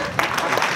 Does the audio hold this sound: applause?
yes